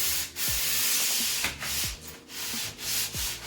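Wooden butcher block edge being hand sanded, giving repeated rhythmic rasping strokes, close and moderately loud, with brief pauses between passes.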